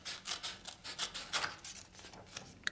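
Scissors snip through paper in a quick series of crisp, close cuts, each one a short rasping slice, with no talking.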